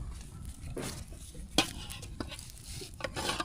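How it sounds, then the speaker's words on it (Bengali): Rice and lentil khichuri made with aman rice and masoor dal being stirred in a pot, giving soft continuous scraping and shuffling with one sharper clink of the spoon against the pot midway, close and steady. "একটু নাড়াচাড়া করে দিই"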